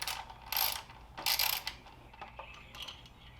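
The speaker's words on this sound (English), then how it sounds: "remove all 4 of those green screws and move this out of the way" A ratchet clicks in short bursts while removing screws from a 2021 Dodge throttle body, quiet and close, with a few lighter mechanical clicks after.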